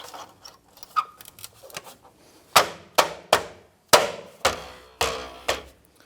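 A wheel center cap is pressed onto a 2008-2013 Nissan Rogue wheel. Six sharp, loud knocks follow one another in the second half, spaced about half a second apart, after quieter scattered taps and handling noise.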